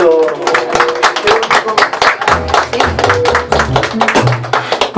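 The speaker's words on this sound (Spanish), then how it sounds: "Y ese aplauso bien bonito" Dense, steady clapping from a birthday party crowd, loud and close, running over a mariachi band's music with bass notes and sustained tones throughout.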